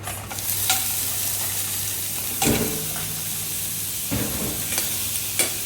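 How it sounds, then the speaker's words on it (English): Clams drop into a pan of browning garlic and sizzle steadily, a loud continuous frying hiss broken by a few sharp crackles and stirring knocks, with no talking. "In the pan, you see your garlic starting to get brown. You add your clams."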